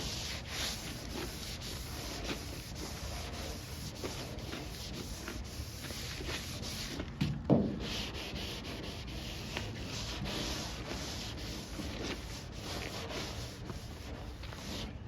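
Back-and-forth block sanding of guide coat on the bed of a Chevy dually pickup truck, a steady, even rubbing scrape that continues for the whole stretch, with a brief louder knock partway through.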